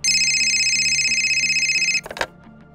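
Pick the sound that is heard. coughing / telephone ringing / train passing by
telephone ringing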